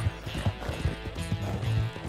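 A horse in a video game, agitated and whinnying, with rapid clip-clop hoofbeats running steadily throughout over a dense game soundscape, near and fairly loud.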